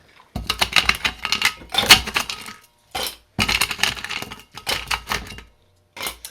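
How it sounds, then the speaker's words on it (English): Ice cubes are tipped into a cocktail shaker while mixing a rum cocktail. Bursts of loud, close clattering and rattling come in several separate pours with short silent gaps. "Go ahead, add your ice now."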